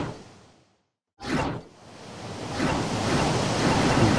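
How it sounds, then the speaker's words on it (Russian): Calming sea waves play in the Outrun 2006 video game menu: after a brief silence a wave whooshes in, then a steady rolling surf wash builds and swells, alone with no voices. "Успокаивающие звуки моря в меню."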